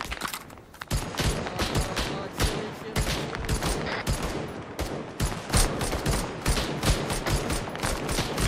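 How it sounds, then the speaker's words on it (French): Covering gunfire in a battle reenactment, a dense fusillade of sharp rifle and machine-gun shots cracking in rapid, irregular bursts throughout, close and loud. "vous faites un tir de couverture, allez, tirez"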